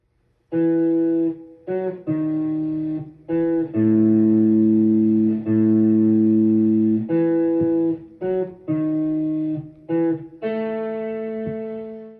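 A synthesized, slightly distorted melodic riff from the Night in the Woods soundtrack plays in short sustained phrases with brief gaps, steady and loud, ending on a longer fading note.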